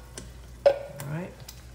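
A spoon stirs petite diced tomatoes in a pan, with a few brief scraping clicks and a soft sizzle, quiet and close, over low background noise.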